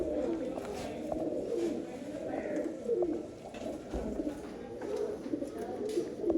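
Sialkoti pigeons coo softly in a breeding loft, with low repeated throaty calls over a faint, busy background of other birds.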